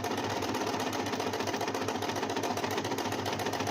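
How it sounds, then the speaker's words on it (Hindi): A sewing machine runs a steady straight stitch through fabric for a scrunchie, its fast even rattle close and continuous throughout, with no voices. "बस यहाँ से ध्यान से सीधी सीधी सिलाई लगाएंगे।"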